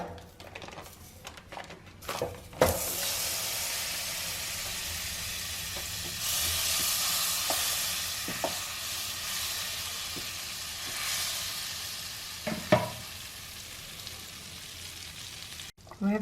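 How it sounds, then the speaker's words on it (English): Butter melting in a hot pan for a chilli garlic mushroom dish, a steady broad sizzle and hiss running throughout with occasional pops and scrapes, close and continuous. "Now we are going to heat the pan and I'm going to use this butter."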